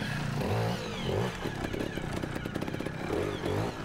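A trials motorcycle with an old-style kickstart ridden nearby, its engine revving up and down in uneven bursts with clattering and scraping over rough ground.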